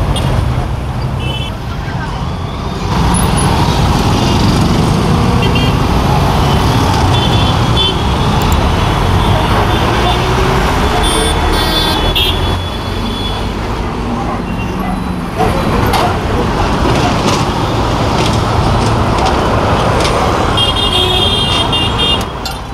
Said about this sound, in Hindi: टॉलीगंज का ये मेन रोड है